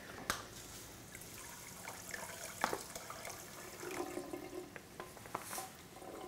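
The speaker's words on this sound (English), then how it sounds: "So you just fill the sink with hot water first" Hot water runs from a tap into a kitchen sink, a faint steady splashing and trickling with a few clinks and knocks from the sink along the way.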